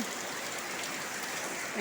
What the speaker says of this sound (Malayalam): കണ്ടോ എന്തൊരു മഴ പെയ്യണേ